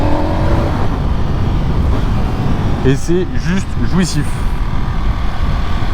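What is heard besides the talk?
Ducati Panigale V4 2025 motorcycle engine riding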